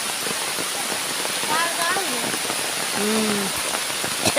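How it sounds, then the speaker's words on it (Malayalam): Heavy rain falls steadily in a rubber plantation, a dense, even hiss close around, with a voice speaking intermittently over the downpour. "ഭയങ്കര മഴ പെയ്യുന്നുണ്ട്"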